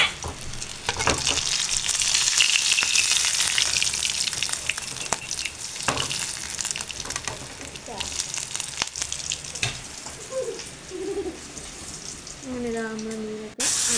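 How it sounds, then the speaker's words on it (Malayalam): Fish fries in hot oil with a strong, continuous crackling sizzle up close, easing slightly in the middle; a short voice is heard right at the end. "ബാക്കിയുള്ളതും കൂടി നമുക്കൊന്ന് വറുത്ത് കയറാം"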